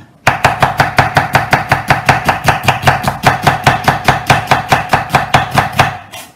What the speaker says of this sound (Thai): หอมเราจะหั่นแบบนี้นะหั่นตามแบบนี